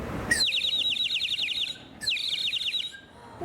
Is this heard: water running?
no